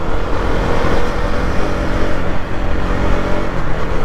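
A KTM Duke 250 motorcycle engine pulls steadily in third gear, a loud continuous drone with wind rush, recorded from the rider's position while riding.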